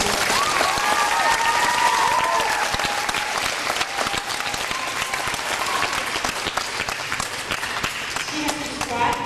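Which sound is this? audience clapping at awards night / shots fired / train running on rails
audience clapping at awards night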